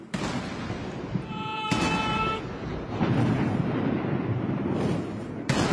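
Ceremonial cannon fire booms across a historic square in Beijing, with loud broadband blasts at the start, near 1.7 seconds and at the end over a continuous rumbling crowd-like wash, and a brief tonal horn-like note in between.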